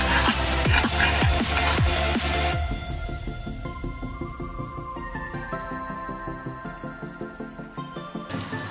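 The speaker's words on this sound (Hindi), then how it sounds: "गार्लिक डाल दिया हूँ फिर स्लो मीडियम फ्लेम पे इसको फ्राई करेंगे" Garlic frying in a wok over a slow-to-medium flame for cream of mushroom soup, a steady soft sizzle with light stirring scrapes, louder in the first few seconds then settling to a quieter continuous crackle.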